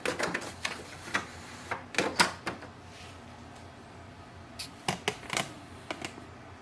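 An HP DeskJet 2900 printer pulling in freshly loaded paper, giving a series of sharp mechanical clicks and clunks in irregular bursts with short quiet gaps between them.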